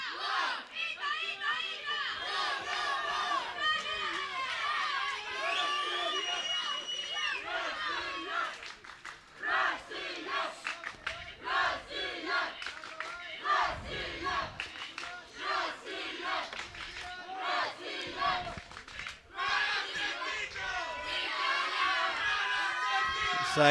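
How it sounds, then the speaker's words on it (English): Spectators at the 2019 European Youth Cup team final cheer and chant, loud overlapping shouts and rhythmic cries rising in bursts over a continuous crowd din. "So you can hear loads of cheering from the crowds here."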